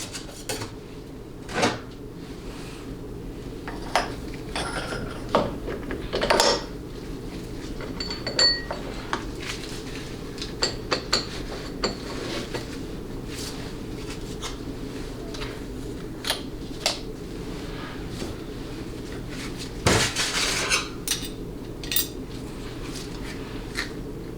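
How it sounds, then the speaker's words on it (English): Metal parts of a 4L80E automatic transmission clink and tap as the sun gear shaft is fitted during a performance rebuild, with scattered sharp knocks and light rattles spread over a quiet background. "just remating the sun gear shaft, checking to make sure that those loop ports are lined up"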